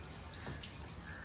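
Water poured from a container onto the base of a tree outdoors, a steady soft splashing and trickle that continues for about a second without speech.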